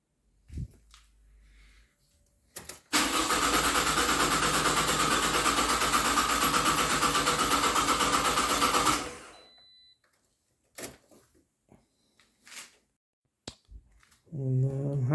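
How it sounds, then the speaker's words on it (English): A 2009 Pontiac Vibe 2.4 engine cranks over with the fuel system disabled, a loud, steady rhythmic starter churn lasting about six seconds without firing, framed by brief clicks and shop noises. "I'm just going to crank it over just to show you guys on the waveforms."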